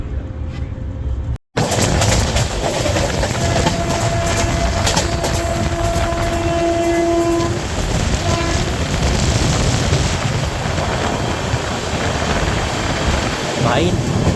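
A train running at high speed through Rampur Junction on the Anand Vihar–Lucknow double-decker route, with a loud, steady rumble and wind roar, a brief dropout near the start and faint passing tones.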